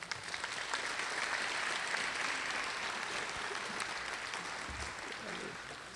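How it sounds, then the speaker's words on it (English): Steady, fairly distant applause from a crowd at a college honors recognition ceremony, a continuous wash of clapping sustained throughout at moderate level. "Another round of applause for President Keyes"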